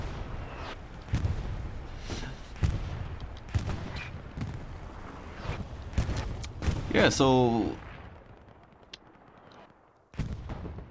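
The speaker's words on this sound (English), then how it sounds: "we already see a lot of explosions here" Tank battle explosions in an esports video game, a series of sharp booms and bursts with a rising whine in between, heard under a commentator's voice.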